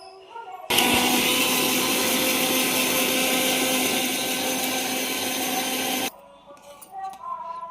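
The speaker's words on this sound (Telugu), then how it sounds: "కొంచెం జీడిపప్పు కూడా వేసుకొని మిక్సీ పట్టేసుకుందాం." A mixer grinder whirs loudly and steadily as it grinds cashews into a paste, a continuous motor roar of about five seconds that starts and stops abruptly, with quieter kitchen sounds before and after.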